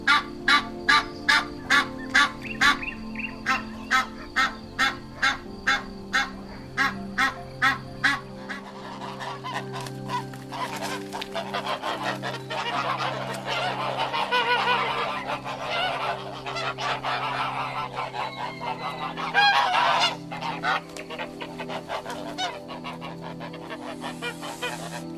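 Goose honking, with a rapid series of repeated honks at the start, then a denser, noisier stretch of overlapping calls, and more honks toward the end.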